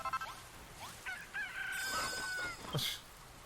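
Chicken in Dragon Quest Builders 2 giving a few short, fairly faint clucks and crowing-like calls over a quiet game background, with no speech.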